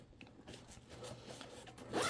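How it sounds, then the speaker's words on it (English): A zipper being drawn shut on a Thule Enroute 30L day pack with a laptop inside, a steady close rasping slide that grows louder at the end. "you can close it up like this with the zip"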